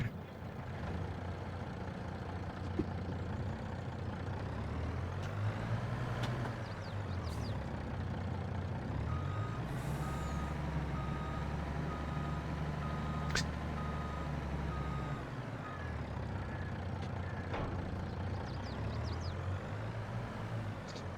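A farm truck hauling a tanker reverses with repeated loud reversing beeps over a steady diesel engine drone, its pitch shifting slightly as the vehicle moves, with no talking.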